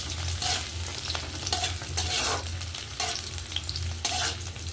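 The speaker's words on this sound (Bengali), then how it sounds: "পেঁয়াজটা লাল লাল করে ভেজে নিচ্ছি" Onion fries in a pan until reddish-brown, with a constant crackling sizzle and a series of spatula scrapes roughly every half second to second, close up with no speech.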